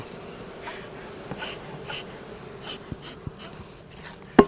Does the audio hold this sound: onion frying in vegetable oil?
no